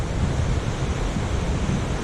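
Ocean waves breaking steadily on Lingayen Baywalk Beach in Pangasinan, Philippines, a continuous heavy surf roar with wind buffeting the microphone throughout and no voices.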